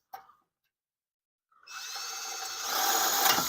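A power drill drives a self-drilling Tek screw into a car exhaust, a short tap followed by silence, then a rising, steady grinding whine that grows louder at close range.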